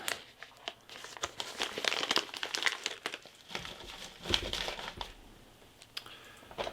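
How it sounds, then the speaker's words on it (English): Plastic Ziploc bag crinkling and crackling as air is pressed out and the seal closed, a close, busy run of soft rustles and sharper crinkles with no talk. "I got a bunch of air out of that package before I seal the Ziploc."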